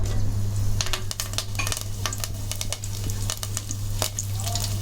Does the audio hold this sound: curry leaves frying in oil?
yes